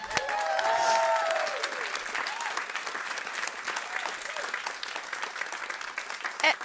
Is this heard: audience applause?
yes